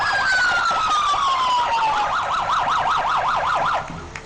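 A fire truck from South Newfane sounds its siren in a town parade: a loud rising-and-falling wail that slides down and then shifts into a rapid warbling yelp, close by and alone.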